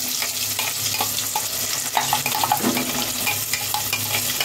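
Ground paste stirred into sautéed masala in a pan, frying with a steady close sizzle and spatula scraping and stirring throughout, no voices.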